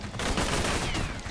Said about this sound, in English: I'm gonna waste my whole ammo clip killing him.